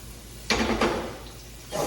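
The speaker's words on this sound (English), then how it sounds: "Garlic is all nice and spread out, and you can kind of hear it bubbling and sizzling" Garlic sizzles and bubbles in a pan, just starting to caramelize, with a steady soft hiss broken by two louder sputtering bursts and a brief flare near the end.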